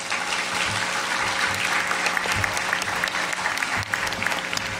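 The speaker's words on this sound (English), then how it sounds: "Let's welcome Clint with a big, warm applause." Warm audience applause welcoming a guest at a book launch event, dense clapping from a sizeable crowd, loud and continuous throughout with no talk over it.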